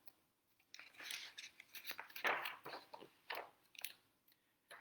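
Chewing and crunching sound effects for a children's story, with animals nibbling and chomping, come as irregular, close, crisp crunches. They are fairly quiet overall, with one louder crunch in the middle.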